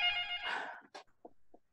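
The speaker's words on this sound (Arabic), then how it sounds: "مش عارف مين بيتصل على التليفون ارضي في اليومين اللي احنا فيهم، حد بيتصل على التليفون ارضي؟" A landline telephone gives one short ring that fades quickly, followed by a few faint, brief trailing tones in an otherwise quiet room.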